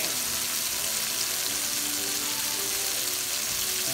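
Serrano ham wrapped around Costa Rican gold pineapple fries in a pan with a steady, close, even sizzle that holds without a break, with faint music underneath.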